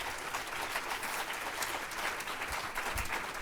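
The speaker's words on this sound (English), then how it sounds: "So a round of applause for our panelists this morning." An audience at a talk on exposing human trafficking in West Michigan applauds its panelists, a steady, fairly distant wash of many hands clapping with no voices over it.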